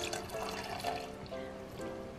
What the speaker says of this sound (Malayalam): തണുത്ത പാലും ചേർത്ത്